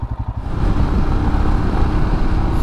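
A Royal Enfield Himalayan motorcycle exhaust rumbles loud and close, a deep throbbing note that rises into a steady, rough growl.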